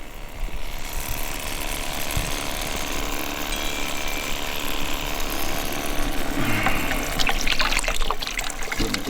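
A battery-powered water filter pump runs steadily outdoors, drawing dirty water with a continuous mechanical whir and a trickle of flowing liquid throughout.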